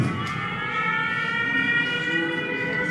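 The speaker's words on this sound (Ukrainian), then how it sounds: "Під час заходу пролунала повітряна тривога." Air raid siren sounding during an alert in Ukraine, a sustained, steady wail held at a near-constant pitch throughout, moderately loud with no speech.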